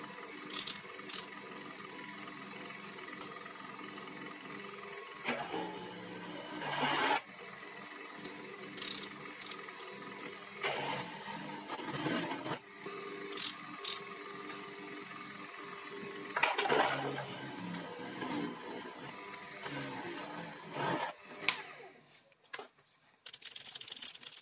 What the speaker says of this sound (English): To get rid of the burrs around the tapped holes, I use a countersink bit again to add a slight chamfer.